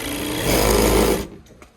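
A Pegasus W3664P-01G industrial sewing machine hums and buzzes steadily at close range for about a second, then cuts off, leaving faint clicks.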